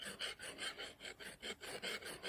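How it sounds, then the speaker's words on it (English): A hand file rasps back and forth along an axe blade, with the axe braced against a leg and the handle held under an arm. There are about ten steady, evenly spaced strokes, close up and alone. "This is the most safe way to sharpen an axe."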